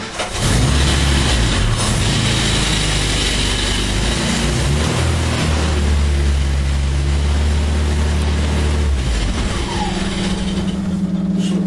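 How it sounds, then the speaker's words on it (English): Car engine running steadily with a rattling exhaust, a loud continuous low rumble that holds for most of the stretch before shifting pitch near the end, no talking. "Rattling exhaust around here."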